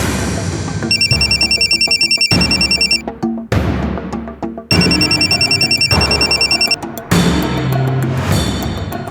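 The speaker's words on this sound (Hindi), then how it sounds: "फोन नहीं उठा रही है।" An unanswered telephone rings loudly in bursts of electronic bell tones, repeating with short gaps in between, with no voices over it.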